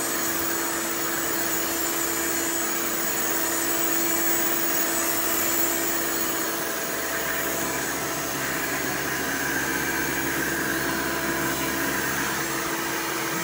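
A Hoover Elite 350 upright vacuum cleaner runs with a canister attachment fitted, giving a steady, loud, unbroken motor whine and airflow roar that holds evenly from start to finish, with no talk.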